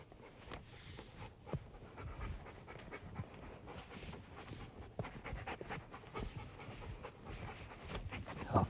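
A dog pants rapidly and steadily at close range during hold-and-fetch retrieve training, the quick rhythmic breaths continuing alone throughout with a few louder bumps.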